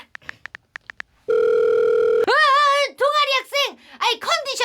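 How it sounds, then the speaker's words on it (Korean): A phone call being placed: a quick run of dial-pad beeps, then a steady, loud dial tone for about a second before it cuts off, followed by close, animated cartoon-style voices talking. "전화 한번 해볼까?"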